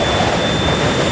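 Jet engines of an airliner roar in a steep nosedive, a loud, steady broadband rush with a thin high whine running through it and no talk.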